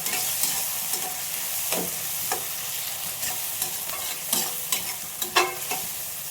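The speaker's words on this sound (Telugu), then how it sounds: "సన్నలుగా కట్ చేసుకున్న టమాటాలు వేసి వేయించుకో బాగా వేయించుకోవాలి" Chopped tomatoes frying for egg curry, a steady close sizzle broken by intermittent spatula scrapes and taps as the pan is stirred, no voices.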